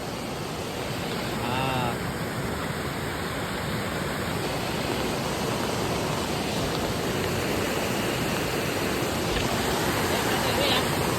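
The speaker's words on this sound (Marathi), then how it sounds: "नदीला पाणी आलंय जरा." A river swollen after rain rushes past in a steady, loud, broadband roar of moving water, close and unbroken throughout.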